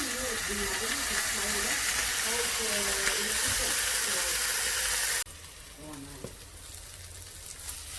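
Peppers tossed into a hot pan for arrabbiata sauce, giving a loud, steady sizzle and hiss with someone talking over it, then a softer sizzle after a sudden drop.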